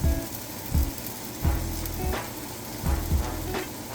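Chopped onion sizzles steadily in a hot pan, a continuous close frying hiss broken by a few louder stirring scrapes and crackles, with no talking.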